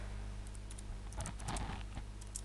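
Computer keyboard typing while entering a field in a Microsoft Access table, a short burst of faint, quick key clicks over a steady low hum.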